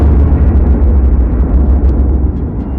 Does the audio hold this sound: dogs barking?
no